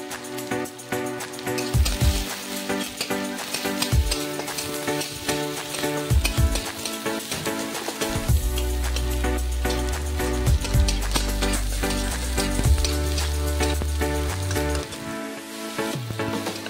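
Cumin, chopped onion and garlic fry in a pan for an egg and soybean dish, giving a steady, continuous sizzle with soft stirring, heard under background music.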